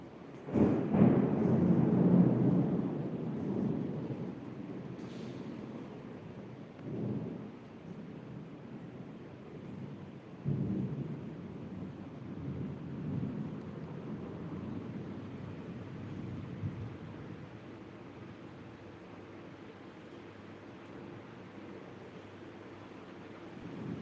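A sudden thunderstorm at two in the night, a heavy rumble of thunder rolling at first and fading into low continuous rumbling over steady rain, with occasional further distant rolls.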